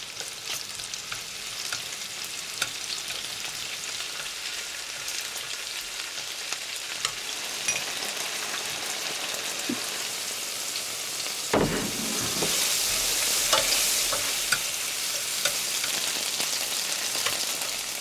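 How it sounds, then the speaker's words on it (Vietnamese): Steady crackling sizzle of chicken pieces frying in hot butter and oil over medium heat, continuous and close, with a brief clatter and a brighter hiss partway through. "Khi bơ tan hết thì mình cho gà vào chiên."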